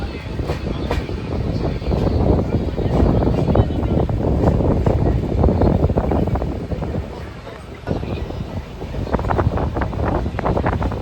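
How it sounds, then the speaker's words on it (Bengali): Shantiniketan superfast express train slowly pulling out of Guskara station, a continuous rumbling roar with rattling wheel clatter and wind buffeting the microphone, fairly loud and close throughout. "আমাদের ট্রেন এই মুহূর্তে গুসকরা ছেড়ে ধীরে ধীরে বেরিয়ে যাচ্ছে।"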